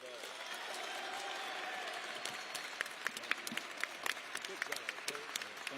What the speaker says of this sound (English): Clap for him like you like him, not like you're mad at him.